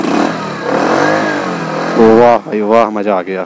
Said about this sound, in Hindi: तो बाइक हो गई स्टार्ट, और एग्जॉस्ट का आवाज़ तो आप सुन ही सकते हो।